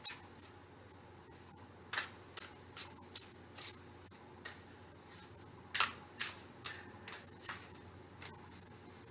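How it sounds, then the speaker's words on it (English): Tarot cards are shuffled with quick, crisp riffling flicks that come in irregular bursts, close up and fairly quiet, with no voices. "I'm shuffling the cards but I'm focusing on the question"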